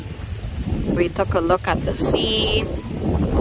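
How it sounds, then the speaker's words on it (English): Strong wind buffeting the microphone outdoors by the sea, a rough low rumble under a person's talk. "It's windy, like a lot."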